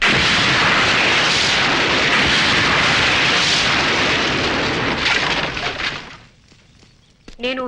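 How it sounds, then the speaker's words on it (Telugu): Diwali firecrackers bursting, a dense run of loud booming blasts and crackle that fills most of the stretch, then fades into quieter pops and a burst of voices near the end. "చిచ్చుపుట్టు కాల్చడానికి ఇంత సీను ఏమద్దు"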